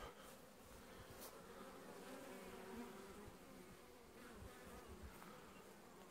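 Honeybees bringing pollen into their hive on a mild day, a steady, dense buzzing of many insects that holds at an even level throughout, close and continuous with no voices.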